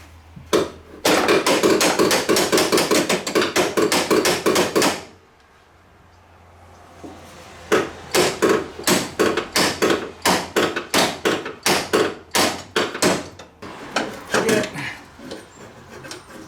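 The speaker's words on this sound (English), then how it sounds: "We'll get our snap-on universal hammer and ratchet." Rapid, sharp hammer blows ring out in fast bursts while working on a 1985 Ford F-150 pickup, a brief pause, then more uneven strikes resume, loud and close.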